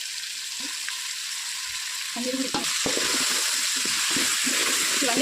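Vegetables frying in a pan with masala, turmeric and ginger garlic paste for paneer vegetable rice, stirred steadily; a constant close sizzle with scraping spatula strokes that grow busier midway, no talking.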